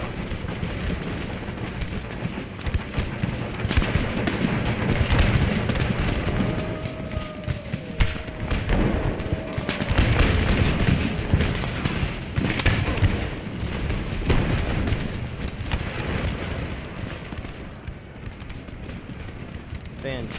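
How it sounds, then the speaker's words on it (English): Cannon fire from a battle in the strategy game Empire: Total War, repeated dull booms and thuds over a constant roar of battlefield noise, with a commentator speaking over it. "Some fantastic cannon shots here, just skipping right through their lines."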